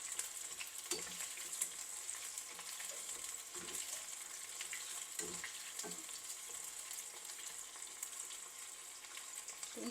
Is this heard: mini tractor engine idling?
no